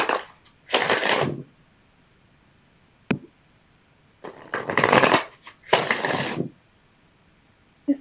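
Tarot cards riffled and shuffled by hand in several quick, crisp bursts separated by pauses, with a single sharp tap between them, close and fairly loud against a quiet room.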